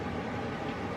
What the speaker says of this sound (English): it's her air purifier over there.